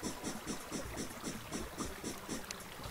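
In the Terraria video game, a giant worm gives off a rhythmic, rumbling, whooshing pulse that repeats about every quarter second, steady and fairly quiet, with no talk over it.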